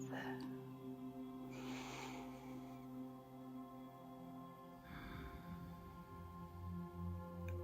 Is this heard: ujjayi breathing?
yes